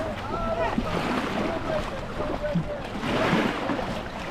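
Boat sounds at a beach on Ma-Me-O Beach, with waves washing in steadily and wind noise over the microphone, under voices and people talking around them.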